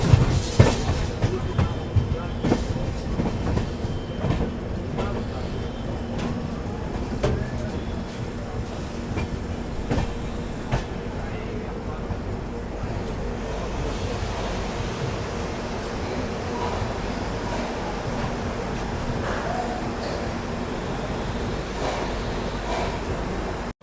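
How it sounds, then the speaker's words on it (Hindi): Ranakpur Express train pulling out of Raika Bagh Palace Junction toward Jodhpur, heard from on board as a continuous rumble with clicking wheel noise and a faint distant horn, steady and moderately loud throughout. "तो अभी अपनी ट्रेन रायका बाग पैलेस जंक्शन से डिपार्चर ले रही है।"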